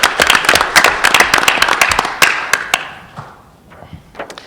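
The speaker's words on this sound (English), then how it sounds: "Clap it up for our girls' varsity tennis program." Applause from an audience at a school board of education meeting honoring a girls' varsity tennis program: dense, fairly close clapping for about two seconds, thinning into scattered individual claps that trail off, then a few last claps.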